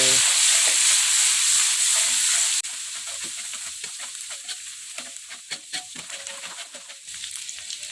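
Anchovies sizzle and crackle in hot vegetable oil while being stirred, with a loud steady frying hiss that drops to a softer crackle punctuated by scraping stirs, no talking.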